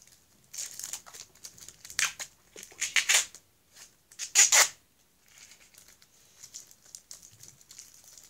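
Adhesive tape pulled and peeled at close range during a French ASMR session, heard as sharp crinkly tearing bursts that come in uneven clusters with quiet gaps between them.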